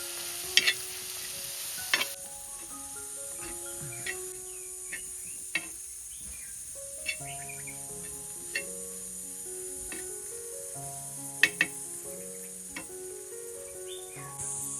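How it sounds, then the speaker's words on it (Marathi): Chopped raw mango is sautéed in a pan over a Konkan wood-fired chulha, a faint steady sizzle broken by sharp spatula scrapes and taps, with birdsong and insect chirps outdoors in the background. "आता मी याच्यामध्ये कैरी टाकून घेतले आणि चांगले परतवून घेतले"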